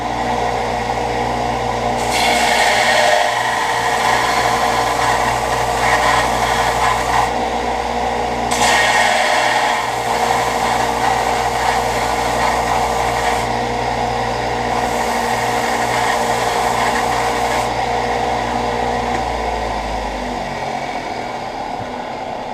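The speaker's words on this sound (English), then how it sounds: "Now, put them on the grinder." Bench grinder running continuously on knife handles, a steady loud motor whine with rising and falling grinding surges as the workpiece is pressed against the wheel, then winding down near the end.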